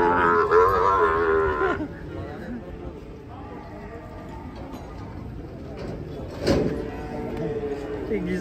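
Cattle moo loudly and close by while being unloaded from a truck. One long low moo is followed by a shorter bellow, with knocks and shuffling, and people talk throughout.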